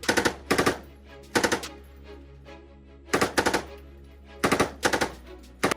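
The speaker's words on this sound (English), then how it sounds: "its sustained fire capability on the L4A1 tripod delivers devastating 10-round bursts at 800 meters." A belt-fed L7 machine gun on an L4A1 sustained-fire tripod fires several loud, close bursts of rapid rounds, separated by short pauses, with a steady low hum underneath.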